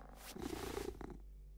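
Cartoon cat purring in an animated French series, a soft rumbling purr rising after a brief moment and holding steady for over a second, close and alone with no talk.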